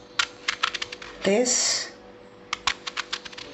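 A knife slices through brinjal (eggplant) being prepared for stuffing, giving a series of quick, crisp taps on a board that pause briefly while a person speaks, then resume.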